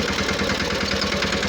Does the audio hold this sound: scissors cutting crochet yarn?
no